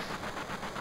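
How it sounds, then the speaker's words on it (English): Steady low train rumble aboard a moving train in Final Fantasy VII, a continuous mechanical drone with a faint rhythmic pulse, moderately quiet and alone with no voices. "I hear that a lot on this train. A lot of rumbling."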